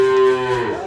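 A Jersey cross cow or calf on a dairy farm gives a single short, loud, close moo lasting under a second.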